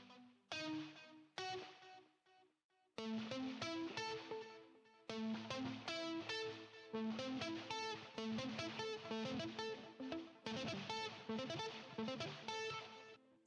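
Quiet electric guitar sweep-picked arpeggios, with the pick resting against the next string between strokes, ring out as rapid cascades of notes in several bursts separated by short pauses.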